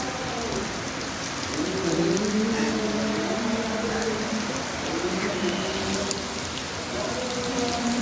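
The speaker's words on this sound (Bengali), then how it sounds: "দেখুন আবার বৃষ্টি দেখুন" Heavy rain pours down in a dense, continuous wash of close hiss and patter that never lets up, with a faint tonal hum wavering underneath.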